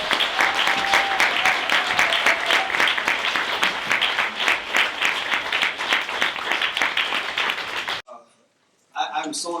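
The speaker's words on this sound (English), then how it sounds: "And can you give them a round of applause for this?" An audience at a talk on Black business empowerment gives a sustained round of applause: dense, loud clapping for about eight seconds, then a brief silence before a voice resumes.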